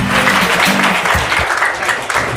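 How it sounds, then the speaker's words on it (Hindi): A burst of clapping from a quiz show audience, loud and close, a brief round of applause with no talk. "जोरदार तालियां"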